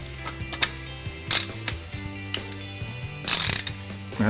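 A ratchet wrench loosens fender bolts on an SSR 125 manual pit bike, with rapid pawl clicks in short bursts and two louder, harsh ratcheting spurts, close and clear with no talking.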